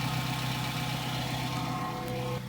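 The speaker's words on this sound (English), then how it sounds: "Just going to leave engine to idle a little bit." A Hyundai Coupe 2.0 engine idles steadily after an oil change, a close, even mechanical hum with a faint regular pulse, holding constant before a slight drop at the very end.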